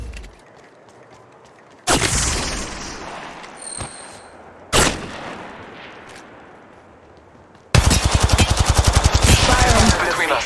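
Weapons firing in the Apex Legends Mobile battle royale game: two single loud shots with echoing tails, then a fast automatic burst near the end over a steady game background.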